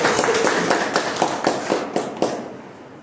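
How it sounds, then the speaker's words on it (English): Applause from a small audience at a Toastmasters meeting, a brief burst of sharp, irregular claps that thins into a few scattered louder claps before fading out. "Please have a huge round of applause."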